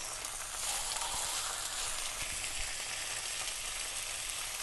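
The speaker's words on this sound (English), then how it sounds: "heat your 1 tablespoon of vegetable oil, and then we're going to brown" Pork chops browning in a tablespoon of vegetable oil in a large saucepan over medium-high heat give off a steady, dense sizzle and crackle, close and continuous, with no voices.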